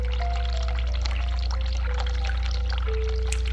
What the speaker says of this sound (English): so we'll run the hot water.